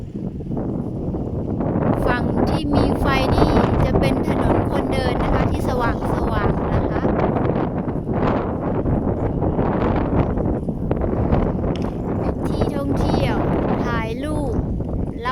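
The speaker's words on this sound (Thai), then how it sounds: "ลมก็แรงเลยนะคะวันนี้" Strong wind buffets the microphone steadily on a seaside pier at night in Prachuap Khiri Khan, Thailand, a loud continuous rumble while someone talks over it throughout.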